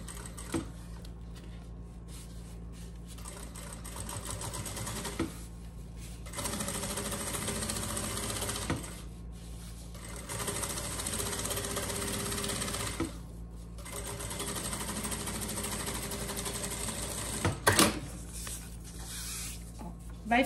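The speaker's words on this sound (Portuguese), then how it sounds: "uma costurinha de pesponto em toda a volta" A sewing machine topstitches all the way around a school backpack strap in several sustained runs of rapid needle chatter with brief pauses between them, close and steady, with someone talking over it.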